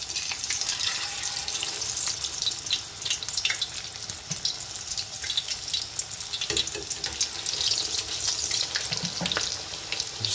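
Green tomatoes fry in oil heated to 180 Celsius, a dense, crackling sizzle with bright spatters that stays loud and continuous throughout.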